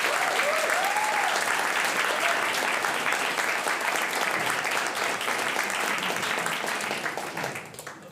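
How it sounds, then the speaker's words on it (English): Warm audience applause welcoming a speaker to the stage at an evening science talk night in London, a dense, steady wash of many hands clapping with faint crowd voices that tapers off near the end. "can we have a warm round of applause"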